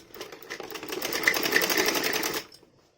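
A sewing machine runs a short continuous burst of stitching along a dhoti salwar seam, a steady close rapid whir lasting about two seconds before stopping abruptly, with no talk over it.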